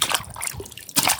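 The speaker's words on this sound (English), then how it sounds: "Let's wash it in water." A toy minivan gets splashed and rinsed in water: brief sloshing and trickling bursts, close and fairly loud, with a short lull before a final splash.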